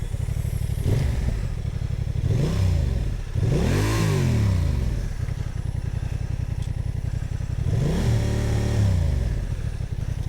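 A motorcycle with a burned-out clutch revs loudly and close in several surging bursts, its pitch climbing and falling back between rises while the engine idles roughly underneath, on sand.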